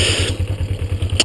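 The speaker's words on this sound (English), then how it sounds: "You hear the bike, and then as I let go, it'll kind of start to make a different sound" A motorcycle engine idles close and loud as the clutch engages, giving a quick, regular low chugging pulse with faint mechanical clatter on top.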